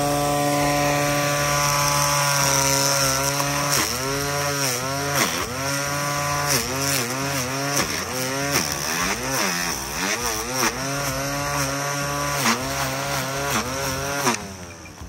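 A small two-stroke grass cutter engine runs loud and close, its high buzzing pitch repeatedly rising and falling as the throttle is revved.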